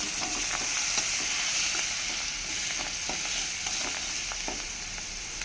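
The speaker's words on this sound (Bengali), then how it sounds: "মাছটা একটু কড়া ভাজতে হবে।" Dried fish (shutki) fries in a pan with a dense, steady sizzle and crackle, close and continuous, broken by faint clicks of stirring, with no voices.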